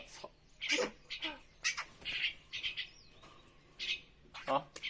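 Young myna chirping in repeated short, bright bursts spread through the clip, close and fairly loud, with faint background noise between calls.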